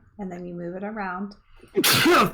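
A single sharp, loud sneeze bursts out right after a few quick spoken words, brief and close.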